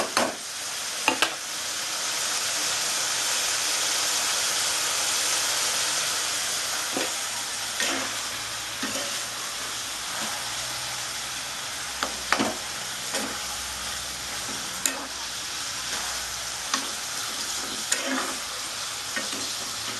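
Cabbage with panch phoron and garam masala frying in a pan, a broad hissing sizzle punctuated by repeated sharp spatula scrapes and taps at irregular intervals, close-up and without speech.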